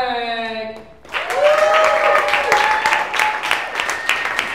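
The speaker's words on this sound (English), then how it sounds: "give a big round of applause for Michael Blake" Audience applause breaks out at a comedy club's Closed Mike Night to welcome comedian Michael Blake, a steady wash of clapping with scattered cheers that rises sharply after a brief lead-in and holds loud to the end.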